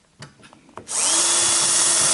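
A handheld power drill bores a hole into a wooden drawer runner piece, a few light clicks and knocks first, then the motor spins up to a loud, steady high whine held close by.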